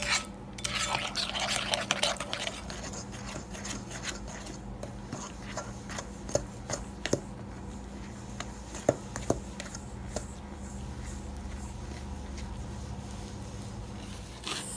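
A spoon works through white chocolate cranberry cookie dough in a mixing bowl, giving faint, irregular clicks and taps over a low, steady room hum, with no one talking.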